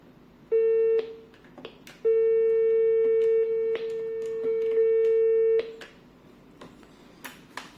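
Busy-style tone from an ECG-513 hotel intercom telephone: loud steady electronic beeps, a short burst then two long sustained tones broken by brief gaps, with faint handling clicks between.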